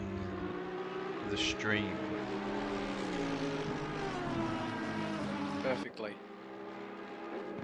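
Race car engine in Assetto Corsa Competizione at Zandvoort, a steady droning tone with layered harmonics that shift in pitch, heard under two people talking.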